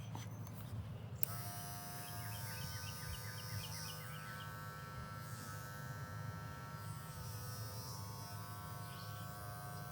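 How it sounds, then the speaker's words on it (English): Andis electric hair clipper cutting a boy's hair, a steady close buzzing hum that starts abruptly after a brief moment and runs continuously, with faint chirps in the background. "you'll just have to take the clipper in a couple different directions to make sure that you get that hair cut evenly"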